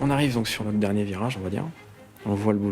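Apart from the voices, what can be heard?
No everyday noise stands out behind the speech.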